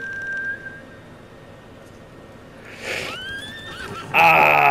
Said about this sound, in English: Ah, my horse.